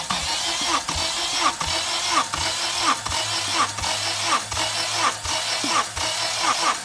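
A Honda K24A engine cranks over steadily during a wet compression test, a rhythmic starter churn pulsing about once every seven-tenths of a second throughout, with no voices.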